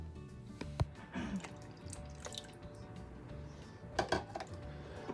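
Milk poured into a Ninja Foodi pot for biscuits and gravy: a quiet, uneven trickle with scattered drips and small splashes, ending in a few brighter droplet hits.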